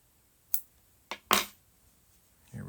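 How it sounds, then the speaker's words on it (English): Three sharp snips of scissors trimming a crocheted yarn tail, close and crisp, spaced apart in a quiet room, followed by a soft shuffling sound. "let's take the scissors and trim that tail off"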